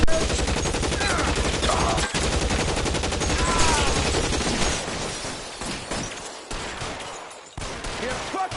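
Heavy gunfire rattles through a shootout in L.A. Noire, rapid bursts and single shots blending into a dense, loud barrage that runs throughout, thinning toward the end with a few sharper separate cracks.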